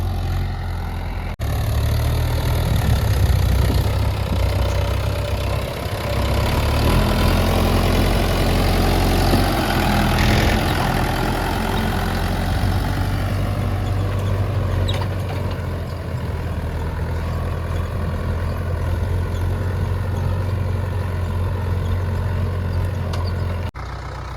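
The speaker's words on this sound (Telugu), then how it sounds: "మన ట్రాక్టర్ వచ్చేసి అయితే ఫార్టీ టూ హెచ్పి మహేంద్ర యువ ఫోర్ సెవెంటీ ఫైవ్" A Mahindra Yuva 475 42 HP tractor engine running in a cotton field, a steady low diesel rumble at close range, continuous and unchanging throughout with no talk.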